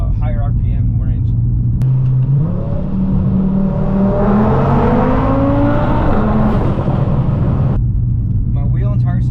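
An Audi RS3 with a stage 2 tune running on E85 fuel revs up: its exhaust rises into a long, climbing roar, then drops back. Someone speaks briefly before and after.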